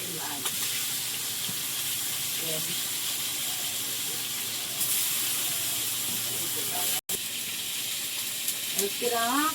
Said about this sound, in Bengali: তা অত বড় মাছটা না ভাজতে তেলটা তো লাগবে